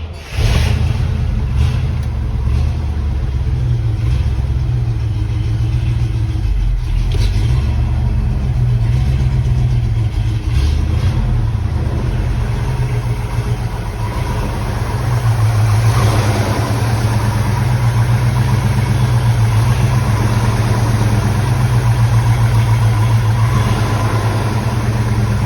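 International Harvester Scout with a 304 cubic inch V8 and Holley two-barrel carburetor rumbling loudly nearby, a rev early on then a steady deep idle throughout.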